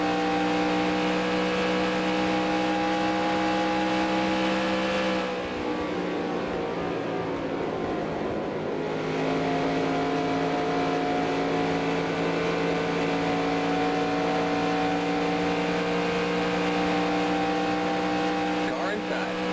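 Race cars circle the Michigan oval in the NR2003 racing game, recreating the 1992 Winston Cup season, with a sustained, loud engine drone whose pitch holds steady and dips briefly midway, heard continuously without a break.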